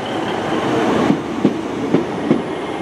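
Class 150 diesel train number 15247 pulling out of a station on a service to Weymouth in Dorset, a steady close rumble with a regular clickety-clack of wheels over rail joints, no talk.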